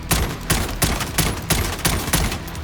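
FR 5.56 rifle in Call of Duty Warzone fires in spaced, evenly timed single shots, about seven sharp close reports in under three seconds, with no talking.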